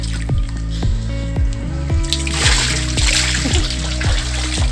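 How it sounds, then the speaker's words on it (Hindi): Dog being bathed in water in a makeshift swimming pool on a home rooftop, close, loud splashing and dripping with repeated wet slaps and sloshes throughout. "अब इसको नहलाते हैं पानी में।"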